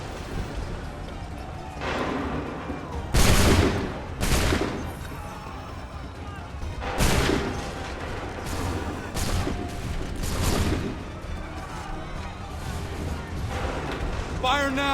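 Musket volleys ring out in an Assassin's Creed III battle, several loud broadband bursts of massed gunfire spaced a few seconds apart over continuous battlefield noise, with voices shouting commands in between.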